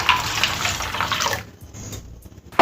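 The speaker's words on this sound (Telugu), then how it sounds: "ఇలా నీళ్ళు వేసుకొని ఒక 2 సార్లు కడిగేసుకోవాలి." Tap water pours and splashes over soya chunks being washed in a bowl, loud and close at first, then cutting off into near quiet before a short final splash.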